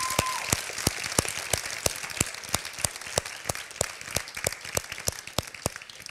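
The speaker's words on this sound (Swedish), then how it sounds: "Stora applåd till silverpengen." Applause for a silver award winner at a Swedish school class-blog awards ceremony: a steady, crowd-wide patter of many hands clapping, with some sharper individual claps standing out, moderately distant and even throughout.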